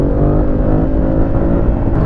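A 2026 Yamaha MT-07 motorcycle engine roars steadily up close while accelerating, a dense throaty motor drone that holds strong throughout.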